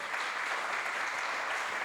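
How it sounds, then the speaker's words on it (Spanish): An audience applauds for Bolívar, a dense, even burst of many hands clapping at once that holds steady throughout and has no voices over it. "Dale un aplauso a Bolívar, caramba."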